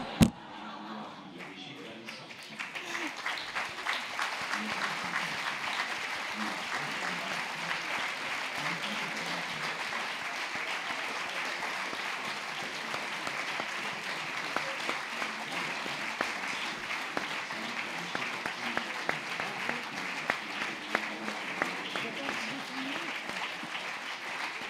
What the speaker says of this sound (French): Merci beaucoup pour ces applaudissements